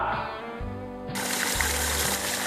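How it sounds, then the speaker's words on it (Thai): Water rushing hard out of the 2-inch delivery pipe of a solar-powered pump in Nan, Thailand, a steady broadband gush that swells louder midway and keeps flowing close by with no talk. "อันนี้นะครับท่อส่งขนาด 2 นิ้วนะครับ อ่าน้ำไหลแรงมากนะครับ"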